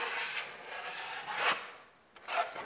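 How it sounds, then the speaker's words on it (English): A taping knife drags drywall compound along a boxed seam in a few quiet scraping strokes, soft rasping passes with a brief pause before a final swipe, heard close and faint. "I'm just gonna do a quick fill. Smooth that in a little better."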